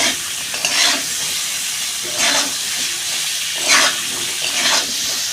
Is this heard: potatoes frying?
yes